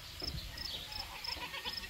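Goats on a farm bleat faintly in short, scattered calls at a moderate distance over an outdoor background with insect chirps, and no one speaks.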